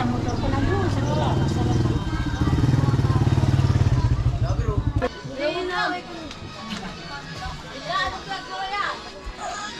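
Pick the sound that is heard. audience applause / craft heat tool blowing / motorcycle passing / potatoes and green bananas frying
motorcycle passing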